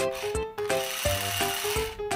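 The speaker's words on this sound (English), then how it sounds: "the Home Depot power drill, Black & Decker drill" A toy Black & Decker power drill whirs with a steady motorized tone, broken by several short stops and restarts, close and moderately loud with no talking.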